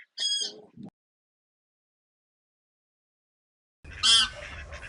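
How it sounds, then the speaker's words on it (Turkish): Two bursts of loud, nasal wild goose honks separated by a long silence, close by and outdoors. "Bunlar yabani kaz."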